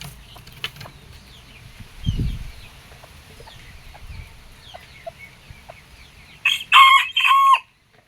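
Hens in a coop around nest boxes, with soft scattered clucks and rustling nearby, then a sudden loud, drawn-out crowing call near the end.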